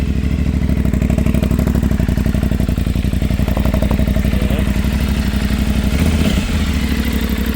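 A KTM 690 Enduro R single-cylinder motorcycle runs steadily close by, its thumping exhaust pulsing in a fast, even rhythm with a brief throttle blip near the end and some mechanical clatter.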